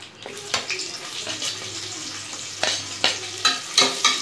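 Onions frying with cashews in a pan for prawn biryani, with scraping stirs at irregular intervals over a steady sizzle, close and moderately loud, no voices.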